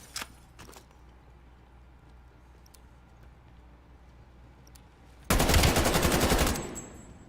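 Rapid automatic gunfire in a 4v4 shooter video game match, a loud sustained burst of about a second and a half after long quiet, with a couple of faint earlier shots.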